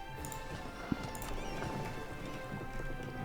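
Horse hooves clip-clop in a steady galloping patter, faint and even throughout, as game sound in the strategy game EU4.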